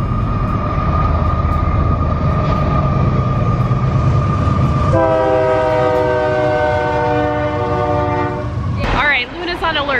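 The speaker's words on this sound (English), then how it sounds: "Here comes the train." A train rumbles steadily past close by, then its horn blasts a long, loud chord before cutting off into a brief clatter of sound.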